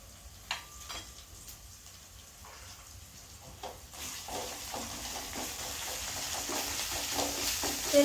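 Ginger, garlic and cumin paste hits hot oil for khichuri, starting with quiet clinks and stirring before a bright, steady sizzle rises and grows louder toward the end.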